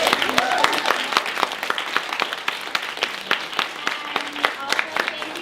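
Applause fills a workshop on e-commerce and brand collaboration, a steady wash of many hands with sharp individual claps jumping out. Some speech is faintly mixed in as the clapping carries on throughout.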